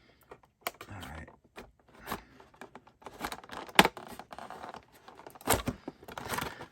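A super sharp razor slices and rips into plastic action figure packaging at close range, in uneven bursts of scraping, tearing and crinkling with short pauses between cuts.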